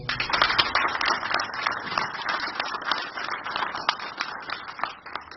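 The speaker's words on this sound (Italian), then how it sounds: "chiederei un applauso sentito al professor Carlo Iandolo" An audience at a Neapolitan language course presentation in Pianura's Casa della Cultura gives heartfelt applause in honor of a late professor: dense, sustained clapping from many hands at moderate loudness, with no talking over it.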